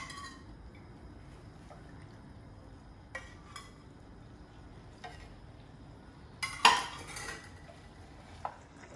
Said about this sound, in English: I'm going to add just a little bit more stock to that.